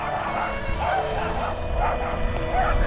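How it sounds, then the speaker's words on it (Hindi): Several dogs on a roadside near the Romania border bark and yip repeatedly over steady motorbike engine and road noise, the barking close and excited. "अबे यहाँ के कुत्ते तो बड़े शैतान हैं।"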